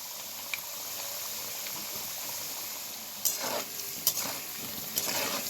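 Potatoes fry in oil, making a soft, continuous sizzle with bubbling, broken by a few brief bursts of stirring and scraping in the second half, close but fairly quiet, with no speech.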